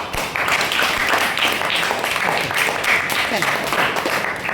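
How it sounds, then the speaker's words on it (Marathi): A class of fourth-grade schoolchildren claps for a classmate: a loud, dense burst of many small hands clapping together, sustained for several seconds in a classroom. "टाळ्या वाजवा याच्यासाठी"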